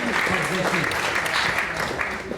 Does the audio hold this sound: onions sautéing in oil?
no